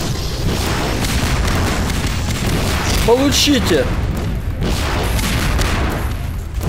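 Explosions in the video game Garry's Mod give a loud, dense, booming roar that fills the whole stretch, with a person shouting over it partway through.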